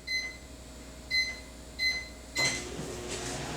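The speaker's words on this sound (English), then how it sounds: "That is the sound of my microwave." A home microwave oven finishing its cycle with four short, clear electronic beeps at an even pace, then the door clunks open and a faint hum lingers, close by with no talking.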